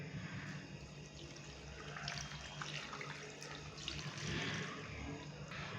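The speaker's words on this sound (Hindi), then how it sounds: "तो अभी हम इसके अंदर 1 लीटर के करीब पानी डालेंगे।" About a litre of water is poured into a pot of oil-free beef curry spiced with red chilli and turmeric, a continuous rushing splash that runs steadily throughout without talking.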